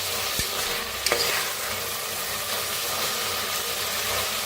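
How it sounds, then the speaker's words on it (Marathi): Spice masala with tomato roasting in oil until the oil separates, a loud continuous sizzle close by with a couple of sharp stirring knocks near the start, no speech. "मस्त असं भाजायचं तेल सुटेपर्यंत"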